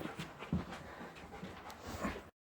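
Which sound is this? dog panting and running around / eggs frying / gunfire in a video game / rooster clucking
dog panting and running around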